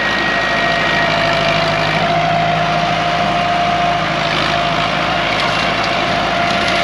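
A Ford 6640 tractor engine runs steadily with its hand throttle set, a loud, unbroken diesel drone close by, with a CMT mower used on pineapple and tall grass. No voices are heard.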